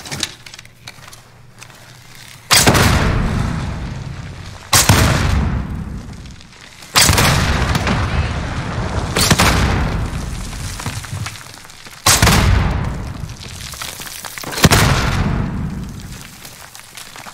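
RPG rockets explode in the Warzone video game with five heavy, booming blasts spaced a few seconds apart. Each is loud and close and decays into rumble, with no talk in between.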